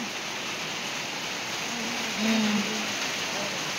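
Heavy rain pours in a steady, dense hiss that stays even throughout, with a voice faintly calling out beneath it.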